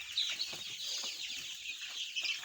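Young chicks in a farm brooder make a dense, continuous chorus of high-pitched peeping and cheeping, heard close and fairly loud without talk.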